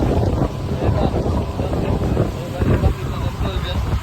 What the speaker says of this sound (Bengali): স্পিড বোর্ডে উঠছি, অনেক হাই স্পিডে চলতেছে